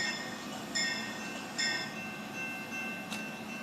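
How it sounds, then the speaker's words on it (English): A locomotive bell rings in clear, evenly spaced strikes roughly every eight-tenths of a second, sitting over a steady low rumble of rail noise. "this is what the bell sounds like"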